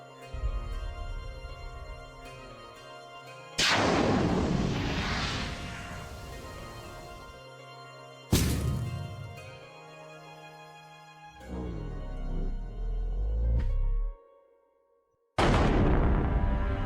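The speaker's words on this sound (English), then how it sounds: "Okay, unlocking guns. Ready, Yue? Yes, let's shoot these bastards out of the sky." Heavy gunfire and explosive booms from a sky-battle game, coming in loud sustained bursts separated by quieter droning stretches and a brief silence near the end.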